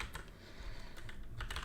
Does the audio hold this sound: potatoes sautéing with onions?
no